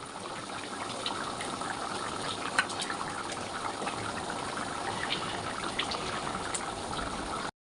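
A pot of mutton and bottle gourd curry boils on the stove, a steady, moderately loud bubbling and gurgling that runs unbroken with small pops scattered through it.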